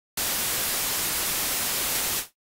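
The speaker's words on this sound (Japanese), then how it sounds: "ホワイトは明るめのノイズですね。" Bright, hissy white noise from a HALion 6 software synthesizer, switched on abruptly at full level, holding steady for about two seconds and then cut off with a quick fade, with nothing else playing.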